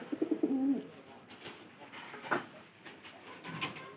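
A pigeon coos nearby in a short, soft rolling burst, followed by quieter rustling and faint bird sounds.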